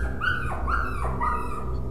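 A puppy in the horror game Rewind Or Die whimpers three times, high thin whines that each slide downward, evenly spaced over a low steady background hum.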